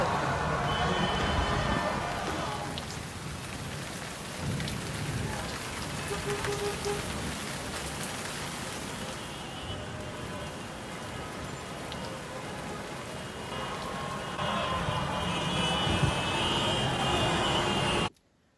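Steady rain falls on a surface, a dense, continuous patter that stays loud and even for about eighteen seconds before cutting off abruptly.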